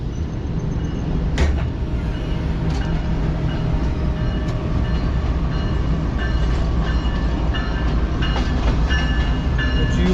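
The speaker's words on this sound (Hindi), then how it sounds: "तेज़गाम निकल रही है" Tezgam express train passing at close range, a loud, steady rumble of rail cars with clanks and sharp metallic clicks throughout.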